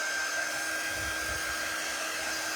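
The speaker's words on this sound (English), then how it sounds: "we're gonna go ahead and dry this with my quick dry tool" A quick-dry heat tool that runs only mildly warm blows a steady, continuous stream of air over wet paint, a constant close whoosh with no talking.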